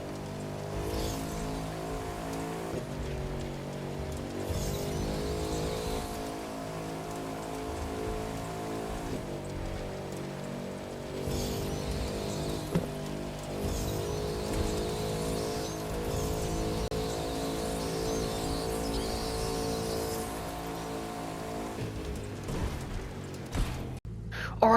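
The engine of a Bugatti Divo Emerald Storm Edition in The Crew 2 drones steadily at high revs with nitro during a top speed run, a sustained, even, tonal whine with slight shifts in pitch and a few faint voices underneath.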